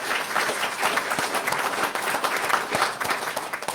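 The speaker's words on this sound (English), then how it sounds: "So a round of applause for my staff at the back." Audience applause for convention center staff at a city council candidate forum, a steady dense clapping that runs loud and unbroken from start to finish.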